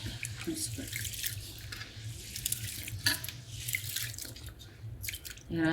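Pearl millet grains are rinsed and swished by hand in water for cleaning, with steady splashing and trickling close by, a louder slosh at the end, and no talk.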